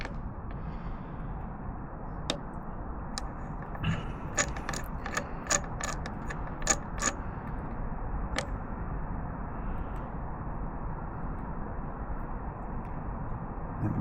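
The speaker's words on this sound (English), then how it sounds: "we're going to use the chain link tool with the flat plates just to press the chain link outer plates together" A chain link tool works the outer plates of a Ducati Multistrada motorcycle chain, a series of sharp metallic clicks and ratcheting ticks over a steady low hum, clustered in the middle of the stretch.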